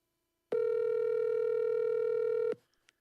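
A steady two-second electronic phone tone sounds as an incoming call arrives. It is a single continuous buzz with a sharp start and end, followed by faint clicks.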